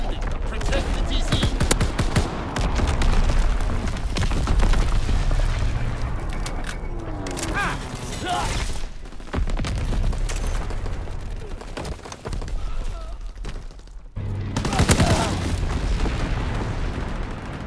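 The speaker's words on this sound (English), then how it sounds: "Incoming enemy artillery." Enemy artillery in Call of Duty: WWII lands in a dense barrage of booming explosions mixed with gunfire, loud and sustained with brief lulls, while voices call out over the battle.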